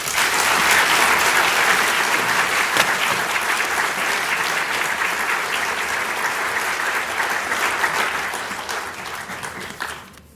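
A lecture audience applauds warmly, a dense, sustained clapping that holds steady for several seconds, then thins and fades out at the end.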